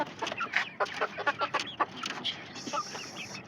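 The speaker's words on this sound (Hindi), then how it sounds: "ये फार्मिंग मुर्गा है" Farm chickens cluck in a quick, uneven series of short calls, fairly close, with a higher squawk near the end.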